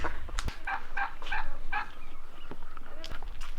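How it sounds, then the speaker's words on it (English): Several short, warbling bird calls, gobble-like, come in bursts at moderate distance over soft background noise. "Birds. Bunch of different birds."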